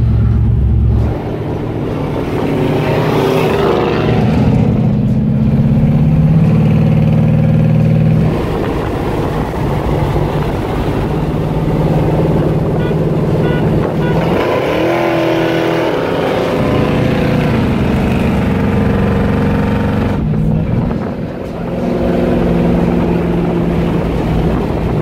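Chevrolet Nova and Chevelle muscle cars with prepared V8 engines and manual three-speed gearboxes, a loud, close, deep rumbling idle broken by several revving surges and brief drops, running continuously with no talk.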